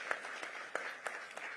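Audience applause at a Zimbabwean occupational safety and health conference, a faint, distant wash of many hands clapping with a few sharper claps standing out, continuing steadily for under two seconds.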